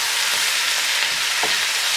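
Tomatoes and spices cook in a pan for a chicken curry, giving off a steady, even sizzle and hiss throughout, with one faint stir partway through.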